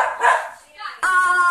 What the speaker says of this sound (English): This is our dog. He likes to chase us.